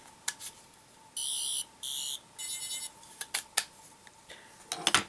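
Doctor Who sonic screwdriver toy, the 9/10 model, playing electronic sound effects: two bright buzzing bursts and a warbling whine followed by scattered clicks, close and fairly quiet, with no talking.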